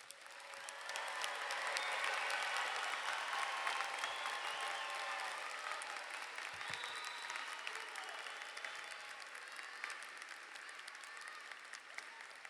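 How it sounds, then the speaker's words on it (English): An audience at a 2019 pharmacy school graduation ceremony applauds the graduates, a sustained crowd clapping that swells early and then holds steady throughout, with a few voices faintly mixed in. "Please join me in giving all of our graduates a big round of applause."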